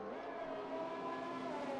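Race car in a sim racing league event on a French circuit, a sustained engine drone with steady tonal whine, fairly faint and continuous as it passes, no talking.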